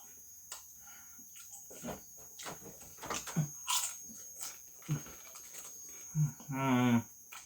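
Pringles sour cream and onion crisps being crunched, with several distinct bites and chewing bursts spaced irregularly, close to the microphone, ending in a longer voiced murmur of appreciation.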